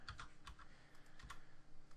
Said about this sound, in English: I am using a mechanical keyboard.